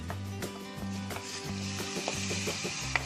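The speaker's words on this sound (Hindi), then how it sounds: "अब इसमें मशरूम डालेंगे," Mushrooms fry in spiced masala in a kadai while being stirred. A continuous sizzle comes with repeated scraping stir strokes, under faint background music.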